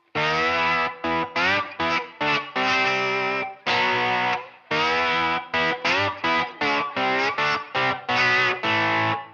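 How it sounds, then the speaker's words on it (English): A distorted electric guitar plays a riff with a slide, alone, gliding between notes in short and sustained phrases with clear gaps. "So, with the slide, that riff would sound like this."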